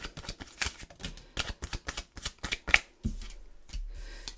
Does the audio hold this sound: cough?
no